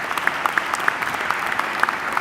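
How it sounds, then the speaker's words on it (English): Audience clapping at a College of Pharmacy commencement ceremony, a steady wash of applause with a few distinct close claps standing out. "Let's give a special applause to all of these contributors."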